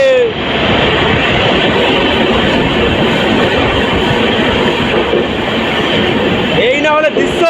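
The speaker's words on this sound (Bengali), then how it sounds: "এই মুহূর্তে আমাদের ট্রেন দেখুন টানেলের মধ্যে দিয়ে যাচ্ছে।" Sairang Express passenger train running through a 450-metre tunnel, a loud, enclosed, continuous roar of wheels and rumble with some squeal at the end.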